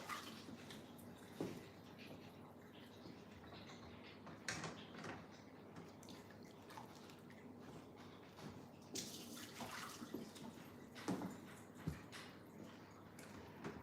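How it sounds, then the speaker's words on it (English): Excess water being poured off a canning pot packed with jam jars, a steady watery splashing with occasional clinks and knocks at moderate volume, no talking. "I think it's possible that I put too much water in this, so I'm actually going to dump some of it."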